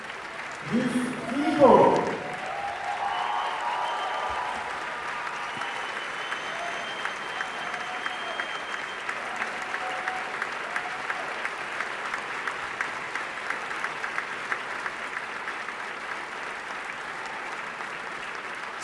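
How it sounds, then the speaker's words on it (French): A voice speaks briefly over the crowd before steady applause takes over for director Just Philippot on the Cannes 2023 red carpet for the film Acide, a continuous, moderately distant clapping that carries to the end. "On écoute les applaudissements."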